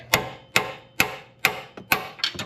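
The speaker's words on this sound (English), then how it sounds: "Go ahead and put the wrench on it and give it a few smack." A wrench is smacked repeatedly to tighten upper control arm suspension bolts on a car, giving six sharp metallic whacks at a steady, roughly half-second rhythm, close and fairly loud, with no talk.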